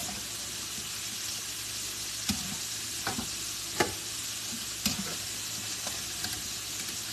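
Fries and turkey burgers frying on a stovetop give off a steady, even sizzle that holds throughout, with a few soft clicks and knocks of utensils against the pan.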